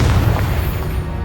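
A Confringo fire spell detonates in Hogwarts Legacy as a loud, deep booming blast that starts the moment and rolls on as a continuous rumble without clear separate hits.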